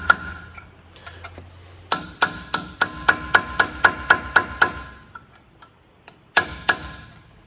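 Steel chisel hammered against Land Cruiser front axle parts, a run of about ten sharp metallic strikes in steady rhythm, close and loud, then a pause and two more hits.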